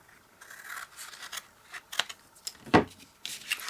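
Cardstock being cut away by hand while making a double-ended treat box, with soft intermittent snips and scraping strokes, close and quiet, and one sharper cut partway through.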